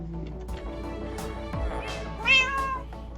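A cat in the Minecraft game world meows within game sounds, with a couple of short, rising mews near the middle and no talking over them.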